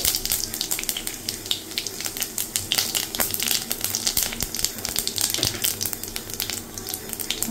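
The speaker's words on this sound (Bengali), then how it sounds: "বসিয়ে দিয়েছি কড়াইতে তেল মাংসর জন্য। চলো ফোড়নটা দিয়ে নাও।" Bay leaf and cumin seeds fry in hot oil in a wok for a meat curry, a loud, steady crackling sizzle with dense spitting pops throughout, close by and with no talking.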